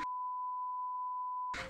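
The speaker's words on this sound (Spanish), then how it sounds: "porque sonará un bip" A censorship beep: a single steady pure tone lasting over a second, clean and alone, cut off abruptly by a burst of other sound at the end.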